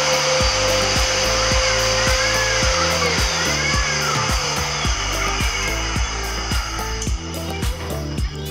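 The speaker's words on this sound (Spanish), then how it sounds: "Hay una prueba de su fuerza de soplado." A loud, steady motorized blowing roar runs continuously, a Truper 6 HP shop vacuum in blower mode with a constant whine and no pauses.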